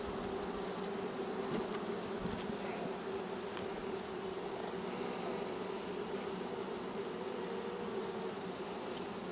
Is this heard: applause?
no